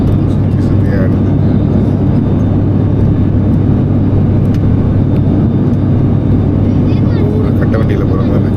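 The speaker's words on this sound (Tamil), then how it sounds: "லேண்ட் ஆக்குறாங்க. அப்படியே ஆடுது ஃப்ளைட்டு, சுற்றி சுற்றி ஆடுது." An airplane cabin during landing fills with a loud, constant engine roar and rumble while the aircraft shakes in flight, with a voice talking over the drone.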